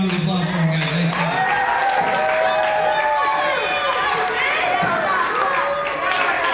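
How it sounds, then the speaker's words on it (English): An audience applauds and cheers at an award presentation, a dense, steady wash of clapping and crowd noise with voices mixed in. "One more round of applause for him, guys."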